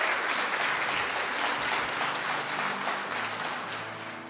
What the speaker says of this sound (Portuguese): Até as palmas diminuíram, né?